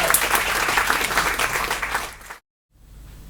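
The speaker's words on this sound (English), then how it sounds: "Give them a huge round of applause" A loud, dense burst of audience applause greeting two poets at a Pride event, sustained for a couple of seconds before cutting off abruptly into near silence.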